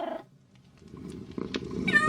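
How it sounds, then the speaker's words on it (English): A cat gives a clear meow at the start and a rising meow near the end, close and moderately loud, with soft purring and movement between the calls and no talk. "Thank you for the meow."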